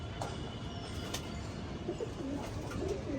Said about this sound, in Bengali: তো একটা মেল কবুতর দেখাই আপনাদের